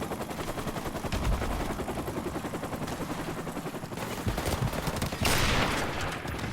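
Gunfire in Call of Duty Remastered, a dense, continuous crackle of shots with sharper sniper reports near the end, loud and steady, with no talking.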